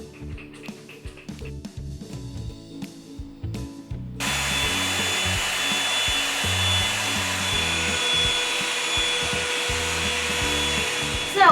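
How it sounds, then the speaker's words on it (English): A handheld blow dryer gives a woman's freshly pink-dyed hair a blowout during a home makeover; a steady, loud whooshing airflow starts partway through and runs continuously over background music. "I'm gonna give her a blowout with this weird blow dryer thingy."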